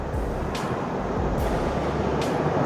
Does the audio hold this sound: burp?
no